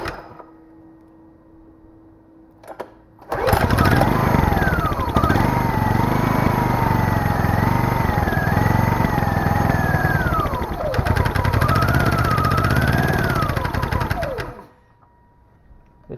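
Small generator engine torn out of its housing, choke sprung on, cranks briefly then fires and runs steadily with a loud buzzing roar and slightly wavering, bogging pitch, before cutting off abruptly.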